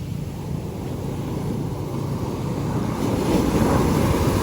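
Ocean surf rumbling continuously with wind noise, the wash swelling louder toward the end.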